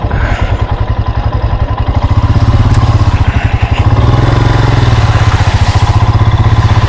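A Royal Enfield Himalayan single-cylinder motorcycle rides slowly along a rough, cut-up off-road green lane in second gear with light clutch use, its steady thumping exhaust pulsing loud and close throughout.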